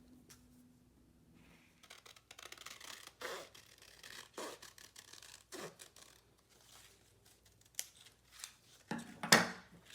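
Scissors snip through black construction paper while craft shapes are cut out, a quiet run of short, irregular crisp cuts and rustles with brief pauses between them, louder toward the end.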